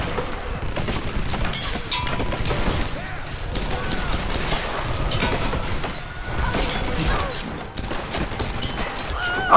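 Enemy gunfire in the video game Tomb Raider (2013): continuous crackling shots and impacts with bangs layered in a dense, loud battle din, a voice talking over it.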